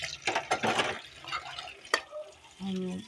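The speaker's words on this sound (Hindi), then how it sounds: "मैंने कहा कि मैं जल्दी से बर्तन धो लूँ" Dirty pots and dishes being washed by hand at a kitchen sink, with splashing water and clinking utensils in short bursts, a sharp clank near the end, and a voice over the last moment.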